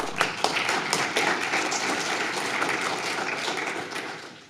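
An audience at a game design workshop gives a steady round of applause, dense pattering claps from a roomful of people that taper off at the end.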